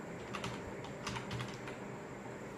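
Fingers tap a phone or computer keyboard in quick short bursts to enter a search in an app store, soft clicks close up with no speech.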